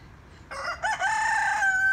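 A single rooster crows nearby, loud and clear, one long rising call standing alone against a quiet background.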